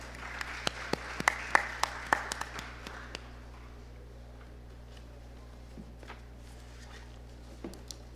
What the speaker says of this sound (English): Please clap as he comes.